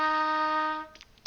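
A trumpet sounds one steady F on the first space of the staff, a single clear, held note that lasts under a second before stopping, close and with no other sound.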